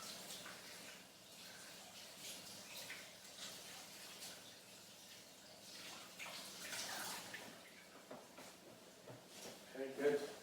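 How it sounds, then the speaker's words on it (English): Hands being washed under a running kitchen tap, a soft steady stream of water with faint splashing and rubbing, quiet and close, rising slightly at the end as the flow is disturbed. "just going to wash my hands."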